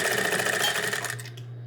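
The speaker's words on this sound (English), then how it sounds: "So you're going to keep sewing just how your terry is cut." Sewing machine stitching bias tape onto a terry cloth towel, a steady close buzzing whir for over a second before the motor eases off into a lower hum.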